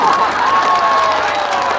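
Loud clapping and cheering from a festival crowd at a county day celebration concert, continuous and close, with shouts and voices rising through the applause.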